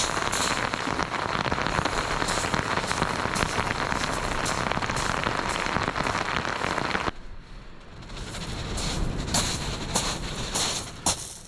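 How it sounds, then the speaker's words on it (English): Rain pours steadily onto a shingle beach at Chesil during a cod fishing trip, a dense, loud hiss of drops with brief sharper taps. Partway through it drops suddenly to a muffled patter before swelling again. "Not a nice one, and it's raining"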